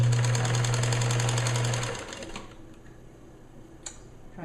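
Sewing machine stitching ribbon onto a small bereavement gown, a close steady mechanical hum with rapid needle chatter for about two seconds, then it stops and leaves faint room noise and a brief tap.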